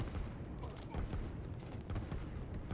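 Artillery fire in the real-time strategy game Line War, a dense run of booming shots and crackling gunfire mixed together, steady and loud throughout.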